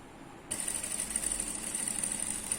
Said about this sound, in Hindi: तो अभी हम इसके बाजू में बराबर यहाँ से सिलाई लगाएंगे।